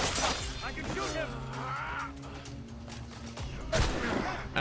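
Video game gunfire rattles through a fight in an Assassin's Creed–style game, with sharp shots early and again near the end over a steady backdrop of in-game sound and character voices.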